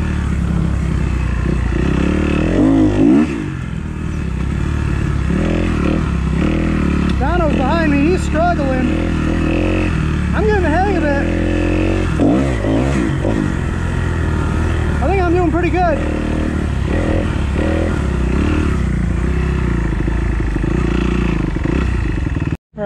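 Motorcycle engine droning continuously on Florida sand trails at an off-road motorsports park, loud and steady throughout with revving swells, under a man's heavy breathing and speech.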